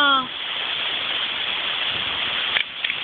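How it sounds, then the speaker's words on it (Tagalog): Heavy rain pours down in a steady, dense hiss, loud and close throughout, with a brief voice at the very start and a couple of faint knocks near the end. "Hala, lakas ng ulan."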